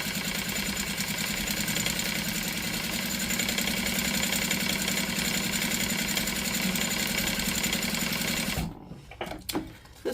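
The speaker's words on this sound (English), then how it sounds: "I'm going to sew with a 1/4 inch seam allowance, back stitching at the beginning and the end, all the way down" Sewing machine stitching fabric with a quarter-inch seam and backstitching, a steady rapid mechanical whir and needle chatter running continuously for about eight and a half seconds, then stopping into a few soft handling clicks.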